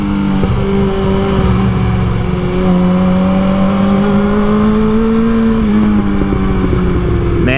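Kawasaki Z1000 motorcycle engine on the move along twisty roads, loaded with a rear pack, giving a steady loud drone with pitch gently rising and falling as the rider works the throttle throughout.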